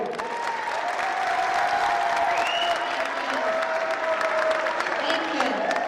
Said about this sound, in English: A warm welcome of applause for our mayor